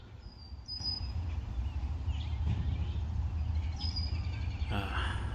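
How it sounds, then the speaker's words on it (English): A few faint, short bird chirps sound from a distance over a steady low outdoor rumble and breeze in a residential neighbourhood of Scarborough, Toronto. "The sound of the bird is like music to my ears."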